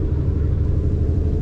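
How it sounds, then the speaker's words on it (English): A car's engine gives a loud, steady low rumble from inside as it pulls along a road, with no voices heard. "She has a nice throttle, nice pull to it,"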